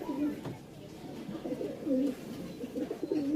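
Domestic pigeons in a loft coo softly in repeated low, rolling phrases, close by, with faint background rustle and no talk over them.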